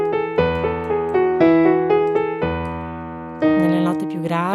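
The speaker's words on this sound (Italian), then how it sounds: "Sentite anche la vibrazione che aumenta nella cannuccia adesso che scendiamo." Straw phonation vocal exercise with a voice buzzing through a straw: a series of sustained, humming pitches that step downward into lower notes, then rise and slide near the end.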